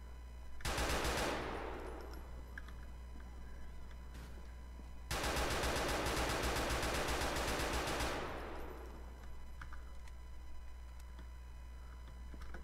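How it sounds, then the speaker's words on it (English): Two long bursts of rapid automatic gunfire in a Grand Theft Auto IV gun battle with SWAT, the first short and the second lasting about three seconds, loud and sharp over a steady low background hum. "Crazy gun battle."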